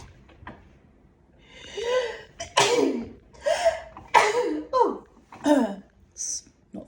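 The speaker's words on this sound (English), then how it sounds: "I'm going to sneeze," A single sharp sneeze bursts out amid breathy gasps and short vocal sounds, close to the listener, with a quiet pause before it.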